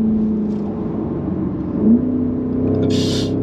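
Fast SUV accelerating hard on the Nürburgring, a steady loud engine drone building in pitch with a brief surge near the end, heard from inside the car.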